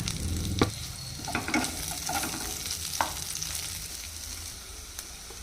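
Chopped onions and mint fry in a tablespoon of oil in a pan for a tomato masala, a steady sizzle with a few sharp clatters as the pieces are stirred, close and alone without talk.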